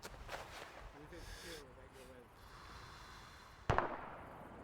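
Gunfire in a military game, a single sharp loud shot near the end after quieter breathing and voice sounds, with faint distant pops earlier.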